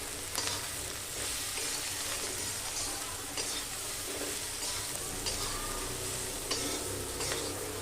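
Ginger paste and Kashmiri red chilli powder stirred into hot oil for spicy brinjal bharta, a steady close sizzle and crackle with repeated scraping strokes of a spoon against the pan, no voices.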